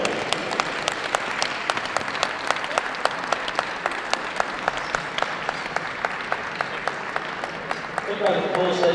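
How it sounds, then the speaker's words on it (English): A large audience claps at a dog show in Manchester, a continuous patter of many hands with a steady rhythmic beat of unison clapping running through it, while an announcer talks over it and a voice rises near the end. "Big round of applause, ladies and gentlemen"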